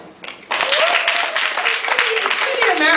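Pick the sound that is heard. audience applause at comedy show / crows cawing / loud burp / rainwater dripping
audience applause at comedy show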